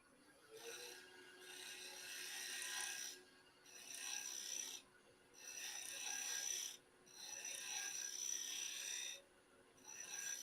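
Shear scraping on a wood lathe in a woodturning shop: a tool working into a small corner of a spinning piece gives steady, breathy rasping strokes in four long passes with brief pauses between them, close and moderately loud.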